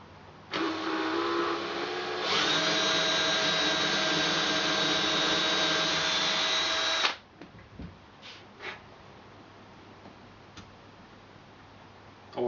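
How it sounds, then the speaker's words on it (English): A power drill bores a hole for a sling stud in the stock of an Anschutz 1517 rifle, a loud steady whine that rises in pitch partway through and then stops, followed by a few faint clicks and handling knocks. "So let's get this one drilled."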